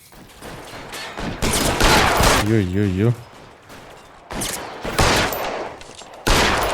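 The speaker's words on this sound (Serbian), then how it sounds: "To prva prava pucnjava u igri." Rapid bursts of gunfire in a shootout in the video game L.A. Noire, loud sustained volleys including Thompson submachine-gun fire, broken by short pauses, with someone talking over the shooting.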